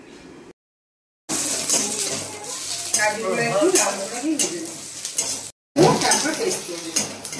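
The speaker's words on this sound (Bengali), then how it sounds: "ভালো করে পেঁয়াজ আর কাজুটাকে লাল লাল করে ভেজে নিচ্ছে মা" Onions and cashews fry in a pan until reddish, giving a busy, close sizzle mixed with spatula scrapes and clinks against the pan. Two brief dead-silent gaps cut into the otherwise continuous sound.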